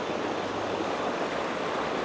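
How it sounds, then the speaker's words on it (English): Steady, broad rushing roar of a waterfall near Hood River, Oregon, heard from a short distance as continuous, even noise without any talking. "And then I got my waterfall in the back."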